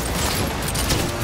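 Enemy gunfire crackles in a quick, dense burst during a Cyberpunk 2077 firefight, loud and close for about a second.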